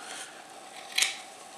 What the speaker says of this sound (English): So if you just cut this kind of up to the build deck, up to the threads of it